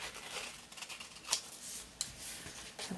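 Scissors snipping a roughly one-inch strip off a sheet of folded paper, a few crisp close cuts with sharp snips and light rustling between them.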